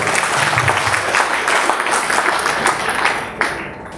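An audience at an award ceremony during a foundation's annual general meeting applauds steadily, a dense, loud, continuous wash of many hands clapping throughout.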